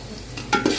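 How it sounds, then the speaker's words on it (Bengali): Onions and spices for chicken biryani frying in a pot, a short burst of sizzle with a couple of scraping stir strokes, near and moderately loud. "নাড়াচাড়া করতে থাকতে হবে যেন মশলাগুলো পুড়ে না যায়"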